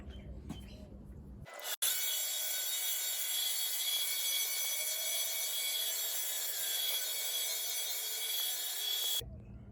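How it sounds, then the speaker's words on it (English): A surface grinder's abrasive wheel scrapes across a steel knife blade with a loud, steady, hissing grind that holds for about eight seconds and then stops abruptly, preceded by brief low machine noise. "you just hear a scraping contact there"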